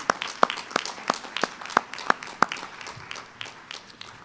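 A small group at a county delegation hearing claps for a retiring official, with a few prominent near claps in a quick steady rhythm over scattered softer ones, fading after a few seconds.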